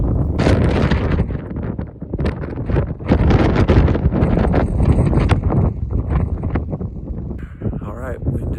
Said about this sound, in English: wind is ripping at the keyhole